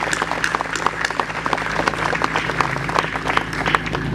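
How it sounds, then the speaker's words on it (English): Audience applause at the opening of St. Joseph's internal medicine practice in Bangor, steady crowd clapping sustained for several seconds, fairly loud and close, with faint murmuring and a low hum beneath. "Let's just give them a round of applause."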